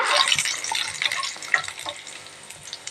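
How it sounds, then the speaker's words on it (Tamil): Dried red chillies, curry leaves and chana dal fry in hot oil in a pan, a close, crackling sizzle with bright pops and stirring scrapes, loud at first then easing off, with no talk. "வத்தல் கொஞ்சமும் கருவேப்பிலையும் போட்டு நல்லா வறுத்து எடுத்துக்கோங்க"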